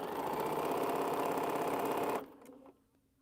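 A sewing machine's bobbin winder whirs steadily and close for about two seconds, then the motor cuts out abruptly, followed by a couple of small clicks and near silence.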